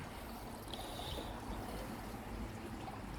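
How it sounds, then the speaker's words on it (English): Coolant water trickles and splashes steadily out of the bottom of a Subaru WRX radiator into a pan during a flush, a faint, continuous watery hiss with no talking. "the water's coming out of the bottom, so that's perfectly fine to flush it through here"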